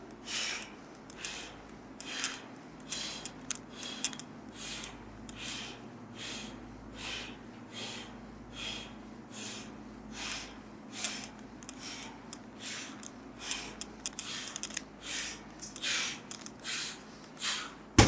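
Fast, heavy, rhythmic breathing during a gym chest exercise set: quick forceful exhales repeat steadily and close to the mic, alone, with no talking.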